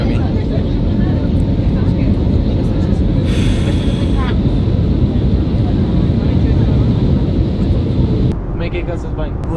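Loud, dense roar of an airliner cabin as it comes in to land in Tenerife, a constant broadband rumble with brief higher swells, while people talk over it.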